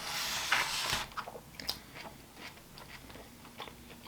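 Crunchy bites and chewing of steak and fries from a food truck, close to the mic, starting with a loud crunch and then a string of softer, irregular chews with no talk over them.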